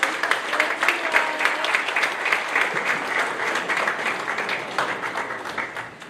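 An audience applauds continuously at an awards ceremony at the Yogi Berra Museum, many hands clapping in a dense, sustained patter that gradually tapers near the end.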